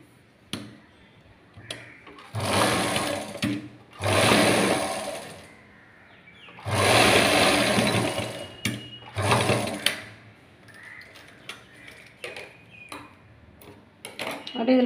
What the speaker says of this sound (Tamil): துணியை அழகாக ரெண்டு மடிப்பு பட்டையா பாருங்க அப்படி ஒரு தையல் போட்டுருங்க